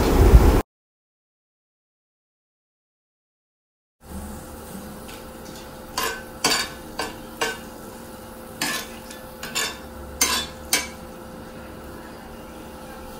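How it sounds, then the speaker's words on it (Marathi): Whole spices frying in hot oil for a restaurant-style tava bhaji, with a soft steady sizzle and a series of sharp clinks and scrapes of a spoon stirring against the pan. "तेल गरम झालेले आहे, त्यामध्ये सर्व खडे मसाले टाकून घेऊया."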